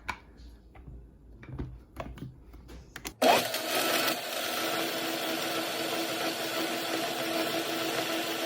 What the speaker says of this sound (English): Okay, we're gonna go ahead and blend it.